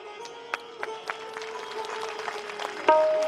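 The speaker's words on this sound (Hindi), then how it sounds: "भरपूर तालियां मेरे मित्र राजेश चेतन जी के नाम पर" Scattered claps from a Ram katha audience gather into thicker applause, with a steady held tone underneath and a sharp burst near the end.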